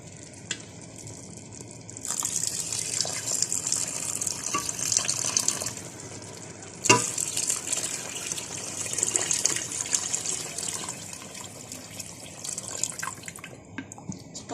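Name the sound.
water poured into a pot for Moroccan harira soup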